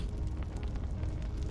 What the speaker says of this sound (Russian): Кто-то влил бензин в костер.